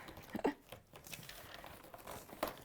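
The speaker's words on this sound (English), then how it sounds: "I'm just opening the next kit." Plastic packaging of a sewing kit crinkles softly in brief bursts, one early and one near the end, faint and close with no talk over it.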